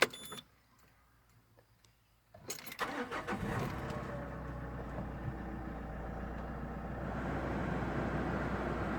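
A Jumpy van with a six-speed manual transmission and 173,000 km on it cranks briefly after a short quiet spell, then catches and settles into a steady, close idle.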